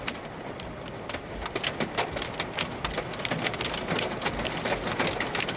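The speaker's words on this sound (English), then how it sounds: "It's a bunch of small hail. We got pea size though." Small pea-size hail falls on a parking lot during a storm, a dense, steady clatter of tiny ticks and taps, close and moderately loud, with no talking.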